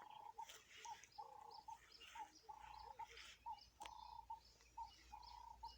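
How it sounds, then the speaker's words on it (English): Birds call repeatedly outdoors in short, evenly spaced cooing notes. Faint chirps sit in the background of a quiet rural yard where chickens are kept, with no voices. "It's a bird."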